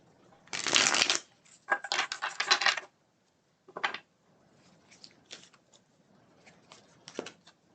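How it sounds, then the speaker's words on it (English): Close-up riffling of a tarot card deck in several short bursts separated by pauses, with lighter taps and slides of cards in between. "Let's shuffle these up"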